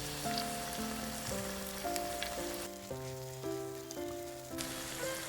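Egg frying in a pan for Korean rice cake soup, a soft steady sizzle heard under gentle background music, faint and continuous.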